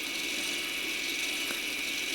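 An electric motor winds a piston out of a brake caliper during a rebuild with new seals, a steady close mechanical grinding whir with a faint ratcheting edge, no speech.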